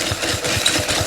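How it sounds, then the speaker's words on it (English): Egg yolks and sugar whisked by hand in a bowl, a close, loud, steady rhythmic beating of about five strokes per second with no talk. "I want to whisk the egg yolks and sugar"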